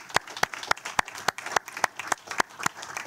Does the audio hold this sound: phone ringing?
no